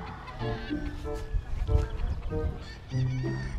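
Several gamefowl chickens cluck and squawk nearby on a gamefarm in short, irregular bursts, with a brief crow-like call among them.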